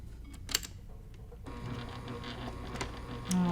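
A sewing machine back stitches the binding on a quilted table topper, its motor a steady, fairly quiet whirring hum that picks up partway through.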